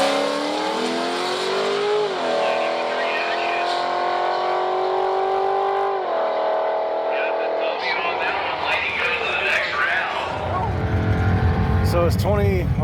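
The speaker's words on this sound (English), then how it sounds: "Red side in the 99 Corvette. Taking on Mr. Wilson in the 85 Mustang" A 1999 Corvette and a 1985 Mustang launch in a drag race, engines revving loud and near with rising gear-shift sweeps, then roaring past into a burst of broadband noise near the end, with an announcer talking over the start.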